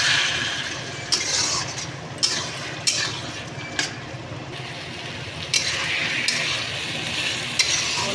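Spinach cooked with catla fish head fries in a pan under a constant soft sizzle, while a spatula stirs and scrapes it with repeated distinct clacks and scrapes against the metal.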